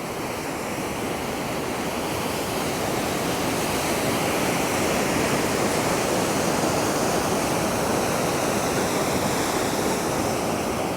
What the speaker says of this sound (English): Look at this water through a spillway, and the creek